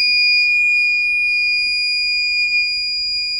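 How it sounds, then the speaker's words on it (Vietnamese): A piezo buzzer powered by a 3.7V 18650 battery gives off one continuous, piercing high-pitched tone, loud and steady for the whole stretch with no other sounds. "Bây giờ thì mình sẽ cho cái còi này nó phát ra tiếng kêu cho các bạn thấy."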